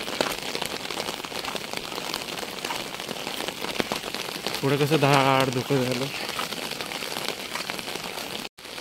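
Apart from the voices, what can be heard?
heavy rain falling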